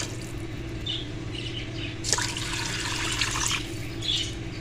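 Water is poured from a glass into a pressure cooker holding dried potato and fenugreek greens, a splashing gush in the middle with soft bird chirps in the background.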